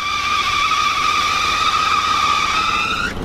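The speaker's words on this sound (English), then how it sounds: "Oh, starts right she up. Starts up, she purrs." A Rolls-Royce limousine engine runs at idle with a loud, steady high-pitched whine held for a few seconds, then cut off abruptly at the end.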